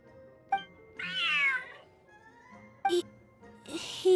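A large cat in a co-op video game meows twice in clear drawn-out calls, followed by short chirpy mews, loud and close against a quiet background.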